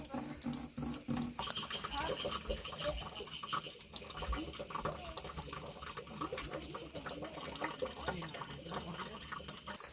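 A thin stream of water trickles from a makeshift supply in a hill forest into a container, filling it slowly amid a busy, noisy outdoor background with occasional voices.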